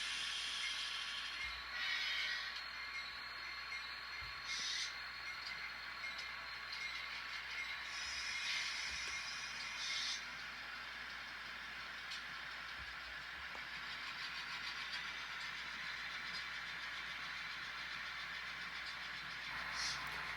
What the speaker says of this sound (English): get him out of the way so they can shove this longer train down in the track here in the yard